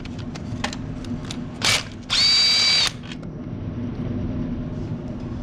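Power tool working on transmission bolts under a 1990-1997 Honda Accord during a clutch replacement, a short whir and then a louder sustained burst of spinning, close up over low garage hum.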